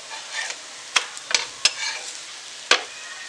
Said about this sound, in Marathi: आता हे आपण असे छान भाजून घ्यायचे खरपूस दोन्ही बाजूनी.